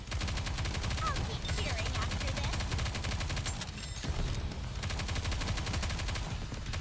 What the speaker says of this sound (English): It's time for some auto rifle shooting.